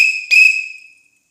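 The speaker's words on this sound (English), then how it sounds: "every good conductor has a whistle" A railroad conductor's whistle gives a sharp, shrill steady tone, briefly restarted with a stronger burst that then fades away; close, loud and alone, with no talking.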